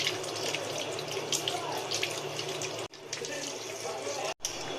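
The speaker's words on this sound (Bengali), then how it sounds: "মটনটা ভালো করে ধুয়ে নিচ্ছি।" Tap water runs steadily into a sink while a kilo of mutton is washed, a continuous close splashing flow with a couple of brief cut-offs and a voice speaking over it.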